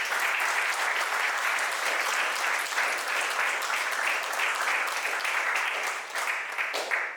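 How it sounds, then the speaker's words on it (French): Audience applause at a coding bootcamp demo day in Marseille, a thick, continuous roar of clapping from a packed room, loud and sustained throughout with no speech over it. "un tonnerre d'applaudissements pour la COC qui nous accueille"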